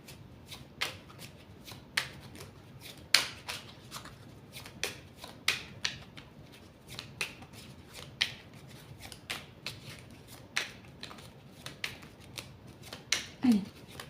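Tarot cards shuffled by hand, a close series of crisp riffling bursts repeating in an uneven rhythm, with a brief soft voice near the end.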